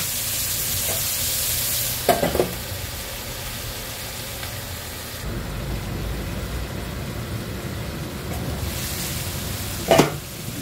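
Carrots, chayote and other vegetables frying in a pan for escabeche, a steady close sizzle with two brief scraping stirs, one early and one near the end, and no voices.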